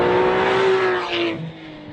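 A 2014 Porsche 911 GT3's engine revs hard above 6,000 RPM, a loud, sustained high-pitched wail that holds steady, then eases off near the end.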